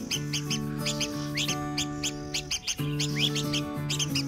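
A sick red-whiskered bulbul chick kept apart from the flock gives repeated thin, high chirps in quick clusters, close to the recorder, over a steady background hum with no talking.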